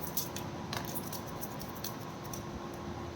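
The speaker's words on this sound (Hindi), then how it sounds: "This is my last shuffle." A deck of cards is shuffled by hand, giving quiet, papery riffling bursts and light flicks at an irregular pace, heard close up with no talking.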